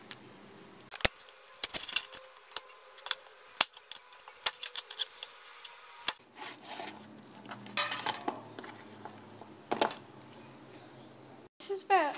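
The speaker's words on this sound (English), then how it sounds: "So now I'm just going to cut up the apple." A knife slicing an apple into pieces for rabbit snacks, with irregular crisp cuts and sharp taps against a board, close and clear over a quiet room, with a voice speaking partway through.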